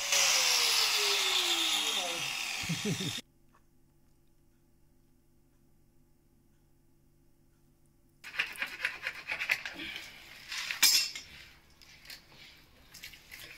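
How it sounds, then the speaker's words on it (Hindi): A grinder cuts a plastic water pipe for an underground borewell line, its high whine loud at first and spinning down before silence, followed by scraping and handling noises. "हम गिलेंडर की मदद से इसको काट लेते हैं"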